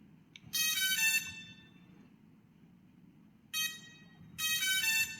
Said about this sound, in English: The little sound it makes when you turn it on.